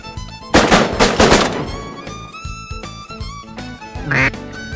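Teal ducks quack loudly nearby in a rapid cluster, followed by scattered calls and a sharp thump, all outdoors during a duck hunt in Arkansas.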